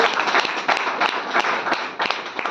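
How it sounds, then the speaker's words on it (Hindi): A room full of people claps hard and steadily, a dense, close round of applause with quick overlapping hand claps and no clear voice on top. "जोरदार तालियां होने चाहिए इसके लिए।"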